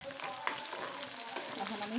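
Chopped onion goes into oil already fragrant with cumin and garlic, frying with a steady, moderate sizzle over two brief seconds, occasional tiny pops breaking the hiss.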